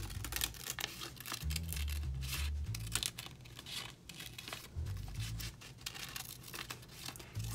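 Scissors snipping through paper in short, irregular cuts, with faint crinkling and rustling between snips, close by and fairly quiet.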